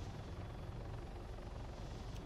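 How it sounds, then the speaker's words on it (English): A helicopter in the video game Arma 3 roars continuously with a dense, low rotor and engine rumble that stays steady and loud for the whole stretch, with no voices over it. "it's some Gucci tactical helicopter drift"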